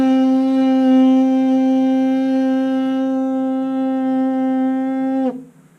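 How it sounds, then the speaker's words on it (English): A steady, strong baritone-style lip buzz made by blowing lots of air through closed lips, holding one rich, buzzy pitch for about five seconds before stopping abruptly. "we're going to do a P sound and blow tons of air through our closed lips."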